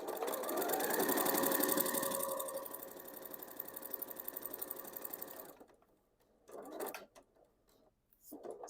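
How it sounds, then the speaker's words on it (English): Sewing machine running steadily for about five seconds while stitching a quilt-as-you-go mug rug, reversing into the edge and continuing to the next corner, followed by brief handling clicks and shuffles as it stops. "we'll reverse into the edge and then continue sewing to the next corner"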